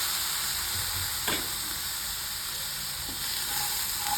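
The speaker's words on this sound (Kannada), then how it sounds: "ಈ ಮೆಣಸಿನಕಾಯಿ ಹಾಕಿ ಹುರಿಯೋಣ." Chillies fry in oil in a pan for a turkey berry sambar, giving a steady, fairly quiet sizzle throughout. One or two faint clinks of stirring break through, with no talking.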